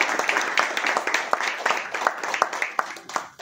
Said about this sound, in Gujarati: લાલાભાઈ માટે જોરદાર તાળી હોવી જોઈએ.